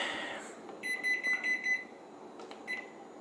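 A kitchen timer lets out a rapid run of shrill, high electronic beeps, then a couple of short chirps a moment later, close and clear against quiet room noise, with no talk.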